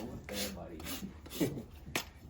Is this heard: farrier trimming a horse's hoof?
yes